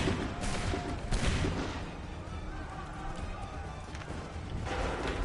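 Musket volleys crack out in a battle in Assassin's Creed III, heavy, booming bursts around the one-second mark and near the end, over a constant rumble of battlefield noise and hoofbeats.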